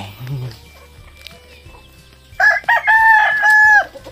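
A rooster crows loudly and close by in one long, ringing call. Before it, a person speaks and some low clucking and scuffling can be heard.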